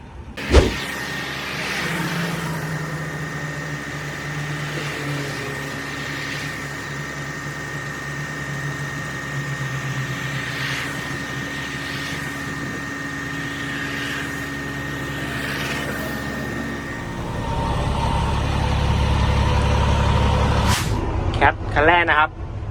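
A Caterpillar 950 wheel loader's diesel engine runs through a test drive, a steady close drone with a high whine that shifts into a deeper, louder roar near the end, with a sharp knock at the start and clatter at the finish.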